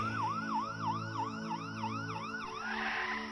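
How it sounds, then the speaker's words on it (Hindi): A police car siren wails in a steady rising and falling cycle, heard from a moderate distance over a low engine rumble, growing brighter and louder toward the end as the vehicle arrives. "पुलिस की गाड़ी आ जाती है।"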